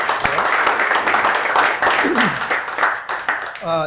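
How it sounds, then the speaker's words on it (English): Audience applause at a university lecture series, a dense steady wash of clapping lasting several seconds, loud and close, with a brief voice and sharper claps near the end. "So maybe we can give them a round of applause."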